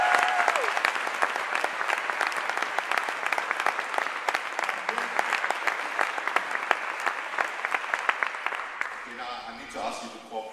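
An audience at the Copenhagen climate conference claps during a Greenpeace speech, steady dense applause that fades near the end as a voice begins speaking.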